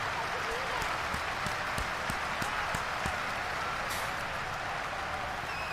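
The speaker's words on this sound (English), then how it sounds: "Adam Thielen down on the field, and they're cheering" Crowd cheering and applause inside a Madden 23 football game, Vikings versus Dolphins, as a player goes down injured; a steady broadband roar of stadium noise fills the whole stretch with scattered clap-like transients.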